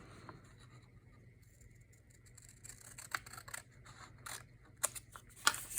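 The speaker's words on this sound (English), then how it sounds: "I am just going to grab my scissors" Scissors snipping paper for a junk journal envelope, a few quiet, scattered cuts and crisp snaps growing more frequent toward the end, close and soft in an otherwise quiet room.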